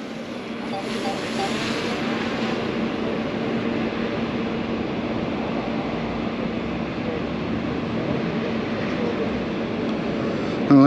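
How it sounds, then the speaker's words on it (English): A DJI drone taking off and flying over an industrial site with silos. Its steady, close buzzing whine holds at an even level for about eleven seconds without a break. "let's get the old Dread Drone up"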